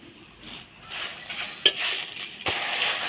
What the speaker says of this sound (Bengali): তারপরে তেল দিয়ে এটাকে ভালো করে নাড়াচাড়া করে